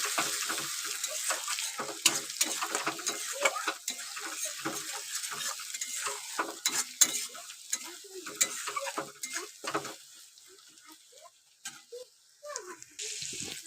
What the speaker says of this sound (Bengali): অল্পটা পরিমাণে লঙ্কার গুঁড়ো, দিয়ে খুব ভালো করে কিন্তু মশলাটা আবারও কষিয়ে নেব।